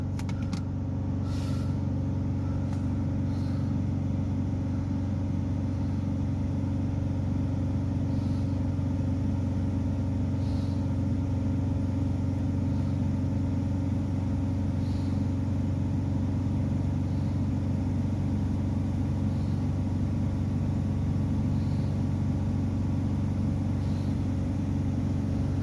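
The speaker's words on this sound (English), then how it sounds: "I'll hold it up to 3000 RPM if we can." A car engine held at a steady 3000 RPM during a diesel particulate filter restriction test, a loud, continuous hum and drone that holds an even pitch throughout, with no talk over it.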